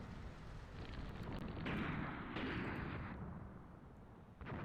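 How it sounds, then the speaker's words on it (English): Mortar shells land in a combined-arms invasion video game, a continuous rumble of heavy distant booms and blasts rolling together, swelling louder in the middle and then easing off. "mortars are starting to fall"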